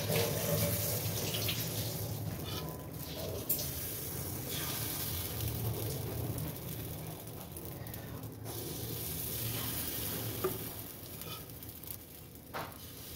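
Water is sprinkled into a covered cooking pan, giving a continuous hissing, sizzling wash at moderate loudness with faint clatters, steady throughout with no talking.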